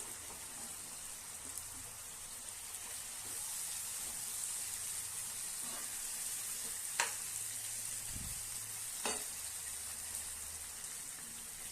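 Chopped vegetables, brinjal among them, sautéing in a pan with softened tomatoes for a spicy Tamil dish give a steady low sizzle throughout, with a few sharp clicks of a spoon against the pan.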